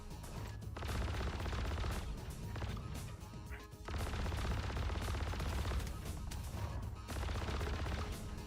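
Guns firing in the video game Frontier Fighters, a dense, loud stream of automatic gunfire with brief pauses between bursts, close and steady throughout.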